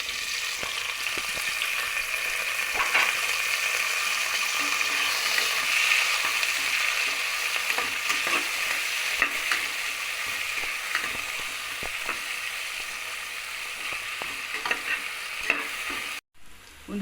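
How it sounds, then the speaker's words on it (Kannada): A bowlful of onions frying in a pan for soya pulao, a close, loud and constant sizzle with repeated scraping and clicking from stirring, cut off briefly near the end. "ಒಂದು ಬೌಲಷ್ಟು ಈರುಳ್ಳಿ ಹಾಕ್ಕೊತಾ ಇದ್ದೀನಿ."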